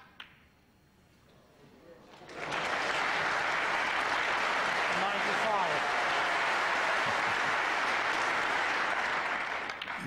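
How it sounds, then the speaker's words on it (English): A snooker crowd at the 2001 Masters quarter final breaks into loud, sustained applause after a shot, rising from near silence and holding for several seconds. "And the crowd really responding to this performance here."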